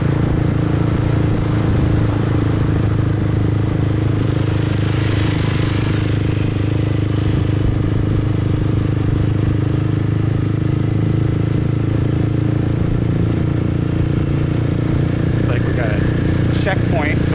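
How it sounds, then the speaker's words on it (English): Motorbike cruising slowly in fifth gear at about 35 km/h through Saigon city streets, a steady low engine drone with rushing wind throughout. "I'm in 5th gear, putzing at 35 kilometers an hour right now."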